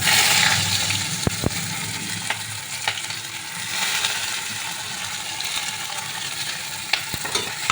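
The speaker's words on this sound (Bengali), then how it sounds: "এবার পেঁয়াজ ভাজা ভাজা হয়ে গেছে" Chopped onions sizzle steadily in hot oil with cardamom and cinnamon, with occasional sharp clicks of a utensil stirring the pan.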